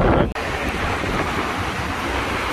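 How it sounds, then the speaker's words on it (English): Strong wind on a balcony in Bucharest, Romania buffets the microphone in a constant loud roar, with a brief dip near the start. "So windy."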